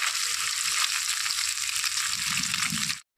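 Small fish fry in hot mustard oil in a wok with a loud, continuous bright sizzle that holds evenly, then cuts off abruptly at the end.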